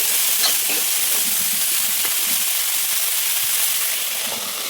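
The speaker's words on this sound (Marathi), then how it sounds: "हे धुवून घेतलेली शेतावरी टाकून द्यायची, छान परतून घ्यायची आणि झाकून ठेवून द्यायचं 2 मिनिटं" Washed shatavari (asparagus) sautéing in a hot pan, giving a steady, loud sizzling hiss with faint scraping stirs, no voices.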